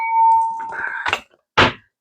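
A drinking glass rings with a sustained tone as it is handled, then a clattering handling noise and a sharp clunk as it is set down on a surface, close and fairly loud.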